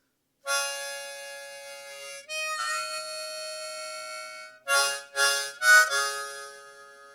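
Harmonica notes played solo, including a note bend: a long held chord, a shifting middle phrase, then three short punchy blasts, fairly soft and close.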